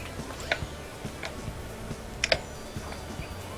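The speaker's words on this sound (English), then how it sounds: "That's what those awful clacking keyboard sounds are." Clacking computer keyboard typing, a run of sharp, irregular key clicks close to the microphone, with a couple of louder strikes standing out.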